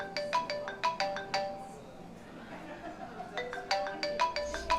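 A phone ringtone plays as a repeating melodic tone pattern, loud and close, in two bursts with a quieter gap between them and no talk over it.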